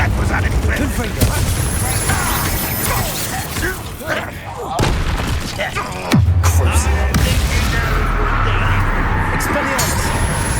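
Fiery Confringo spell blasts erupt in Hogwarts Legacy combat, loud booming bursts layered over dense battle noise and music, with a heavy low impact partway through and voices shouting spell names throughout.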